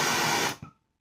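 A Bernzomatic Duracast 8000 blow torch flame roars loudly at close range for half a second, then cuts off abruptly with a soft pop and falls silent.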